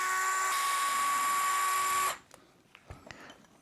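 A power driver unscrewing screws from the motor plate of a custom Traxxas Drag Slash RC car, one high steady whine for about two seconds that cuts off, followed by quiet clicks and handling of small parts.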